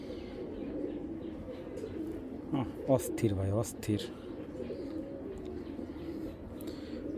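Pigeons of a working line breed coo softly in a loft, with a short burst of rising harmonic calls in the middle, while someone talks over them throughout.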